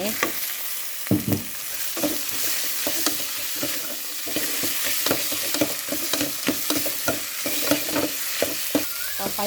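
Beef stir-frying in hot oil with chili for a mustard greens curry, a steady loud sizzle broken by scraping and stirring clatters through the whole stretch, with nobody talking.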